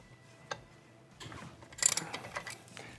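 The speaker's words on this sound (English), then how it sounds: "all you have to do is remove this center bolt" Ratchet clicks and metallic turning while loosening the center bolt of a Polaris ATV primary clutch; a single tick, then a short burst of close, quick clicks and rattling that tapers off, with no talk.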